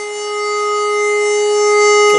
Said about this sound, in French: on reste appuyé sur le bouton pinpoint et le bruit va monter